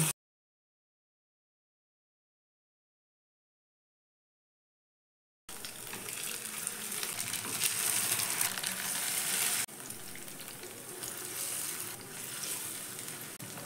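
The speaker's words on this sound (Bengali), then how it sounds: "তারপরে এই গরম তেলের মধ্যে একে একে ছেড়ে দিব।" Batter-coated snacks sizzle and crackle in hot oil in a home kitchen, starting after a few seconds of silence and then bubbling steadily and close up, easing slightly later on.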